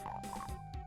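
An imp monster in DOOM lets out short, frog-like croaks, several quick guttural bursts in under a second, fairly quiet and heard alone.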